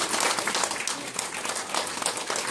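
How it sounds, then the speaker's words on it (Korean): Big round of applause from a seminar audience honoring two professors at a history and culture event. Dense, continuous clapping holds at a steady level throughout, with no voices over it. "두 분 다시 한번 큰 박수 올려주세요."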